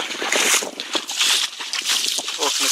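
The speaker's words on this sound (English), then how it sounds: "Just walking in the water at the moment." Footsteps wading through shallow sea water off Crete, a steady run of splashes and sloshing with wind noise over the whole stretch.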